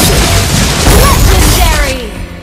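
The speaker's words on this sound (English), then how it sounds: "Your team destroyed the turret!" A turret being destroyed in the Mobile Legends game, a loud booming crash burst that rings out and decays over about two seconds, layered with game announcer voice and effects.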